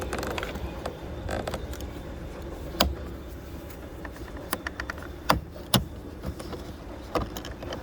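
Plastic trim cover prised out of the rear door of a Lincoln MKZ sedan: scattered sharp clicks and snaps against faint background hiss, with a few louder pops standing out.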